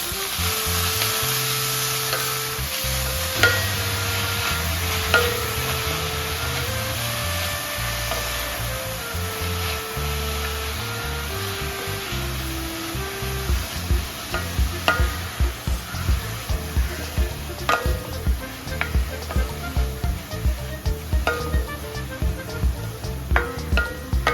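Agathi flowers stir-fried in a pan for a Kerala-style mezhukkupuratti, a steady loud sizzle with repeated scraping stir strokes that grow more rhythmic toward the end, no talking.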